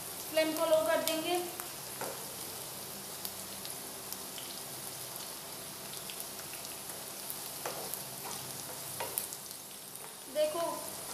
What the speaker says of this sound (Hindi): हमारी भिंडी फ्राई हो चुकी है